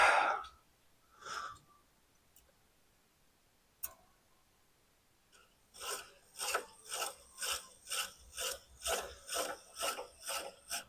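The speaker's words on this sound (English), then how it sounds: "This grinding wheel doesn't exactly run true" A grinding wheel works a part on a 1945 International K3 truck. A few scattered scrapes and taps give way to a regular series of rasping grinding pulses, close and fairly quiet.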